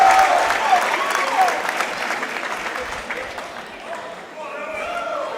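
The home crowd at a high school wrestling match applauds and cheers in a gym, a steady wash of clapping that fades a little before a commentator talks over it.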